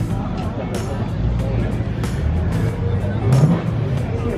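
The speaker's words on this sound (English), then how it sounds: "Corvette cruising out of the show" A Corvette engine rumbling as the car drives slowly out of a classic car show, mid-distance and steady, with crowd chatter and voices over it.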